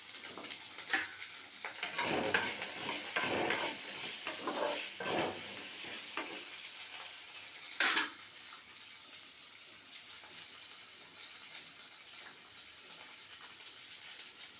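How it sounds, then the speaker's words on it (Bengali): Carrot, potato and long beans frying and being stirred in a pan, a busy scraping and sizzling burst in the first eight seconds, then a quieter steady hiss of oil to the end, with no talk. "ভেজে নেব। প্রথমে গাজর দিলাম, তারপরে আলু আর বরবটি দিয়ে দিলাম"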